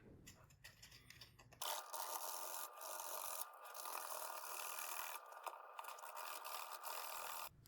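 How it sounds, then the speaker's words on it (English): Leather being sanded with 120 grit sandpaper, a soft, steady rasping scrub that runs continuously for several seconds after a quiet start, close by and faint overall. "I used this 800 grit sandpaper last time. It took way too long, so this time I've gone down to 120"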